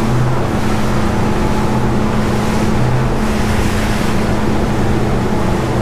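A flybridge cruiser motorboat (SR25) running at cruising speed around 4200 rpm and 21–22 knots, a loud steady engine drone mixed with rushing water and hull noise, continuous with no talk.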